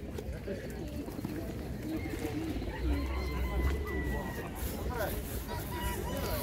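Pigeons and doves coo repeatedly at an outdoor bird market, soft throaty calls rising and falling over a steady hubbub of crowd chatter and people talking nearby.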